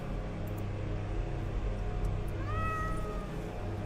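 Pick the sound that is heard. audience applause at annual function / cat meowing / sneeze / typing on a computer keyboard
cat meowing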